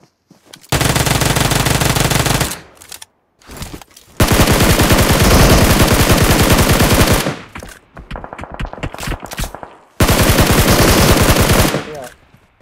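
Loud automatic gunfire from the battle royale game PUBG comes in three long bursts of rapid shots separated by brief gaps and scattered single shots, close and dominant, with a little faint talk underneath.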